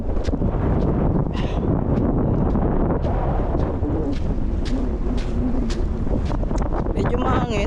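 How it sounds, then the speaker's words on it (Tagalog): Seaside wind in Bahrain buffets the microphone in a steady loud roar with gusty bursts, while a person talks faintly underneath. "Medyo mahangin."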